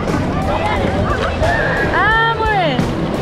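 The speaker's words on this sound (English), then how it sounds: "all the waves are pushing us back in." Sea waves sloshing around a kayak off the Algarve coast near the Benagil caves, continuous close water noise with people talking and calling out over it.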